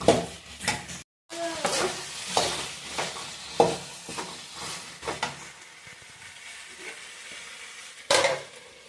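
Brinjal and potato get stirred in a hot pan, with repeated scraping strokes against the metal over a light sizzle, a few strokes louder than others, then a final clatter.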